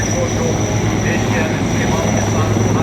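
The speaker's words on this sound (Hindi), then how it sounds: "आप देखिए 2 हेलीकॉप्टर्स, MI-17 ही बोला था मुझे" Two Mi-17 military helicopters fly overhead at a display, giving a steady droning rotor and engine roar from a moderate distance. Someone talks over the noise.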